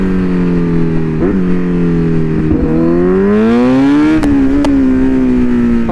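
A Kawasaki Z900 motorcycle engine hums steadily and loud during a ride, its pitch slowly rising as the throttle opens, with a couple of brief clicks near the end and no voices.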